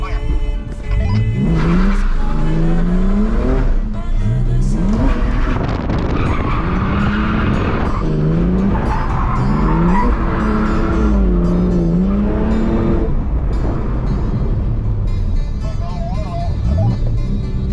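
A car drifting through city streets at midnight, its tires squealing in repeated rising and falling wails over a loud, steady engine roar, with occasional speech underneath.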